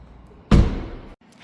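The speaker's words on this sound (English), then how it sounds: "let's go open the door on the other side next." A car door on a 2026 BMW i4 eDrive40 in Brooklyn Grey Metallic makes a single solid thump with a short mechanical release, close and fairly loud, followed by a brief quiet.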